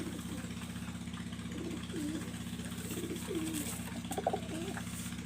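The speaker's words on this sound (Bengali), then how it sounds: "কবুতর জোড়াটা আমি ছাড়িয়ে দেখাচ্ছি আপনাদের" A pair of pigeons cooing softly in repeated low rolling phrases, fairly close, over a steady low hum in the background.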